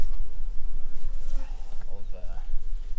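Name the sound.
honey bees buzzing in hive during inspection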